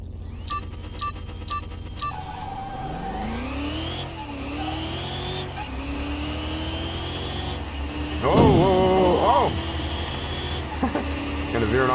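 A supercharged C1 car in Car Mechanic Simulator 2021 drives with a rising, revving engine whine through repeated gear changes, then a harsh grinding scrape against a wall, with steady road noise underneath.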